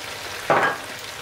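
A spoon stirs chickpeas frying in a pot, one short scraping burst of sizzle that rises suddenly, then fades back to a faint background hiss, close by and with no voices.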